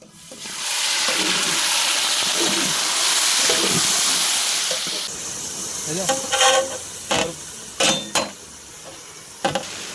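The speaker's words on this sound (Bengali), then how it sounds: "বন্ধুরা, পেঁয়াজটা লাল লাল হয়ে গিয়েছে, আমরা এখন মাংসটা ঢেলে দেবো।" Chicken meat tipped into a pan of reddened fried onions for chicken korma: a loud, hissing burst of sizzling fills the first half, then it settles into quieter frying broken by several sharp clinks and scrapes of a utensil.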